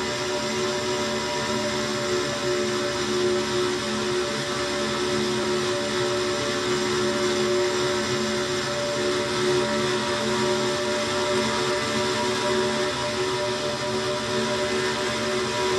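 Racing car engine in a stock-car racing video game held at about 8,500 RPM, a steady high-pitched droning whine that never changes pitch, loud and continuous with no speech.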